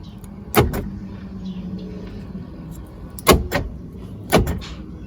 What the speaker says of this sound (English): Let's try door locks first.